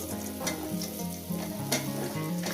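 Tomatoes go into a pan of hot oil with already-fried garlic and set off a steady sizzle, with a few sharper spatters and a tonal musical hum running underneath.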